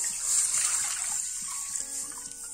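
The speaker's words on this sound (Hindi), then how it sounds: "इसके लिए मैं ये 1 लीटर पानी लूंगी, इसको मैं कढ़ाई में डालूंगी" Water pours into a kadai for boiling potatoes, a steady splashing stream heard up close and alone, easing toward a lighter trickle near the end.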